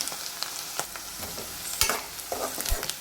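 Onions, green chillies and curry leaves sauté in oil for a tomato curry, with sharp spatula scrapes and clicks punctuating a close, steady sizzle.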